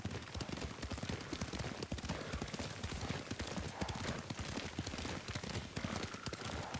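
Horse hooves clip-clop steadily at a riding pace in the game Ghost of Tsushima, a continuous close rhythm of quick hoofbeats over a busy background of ambient game sound.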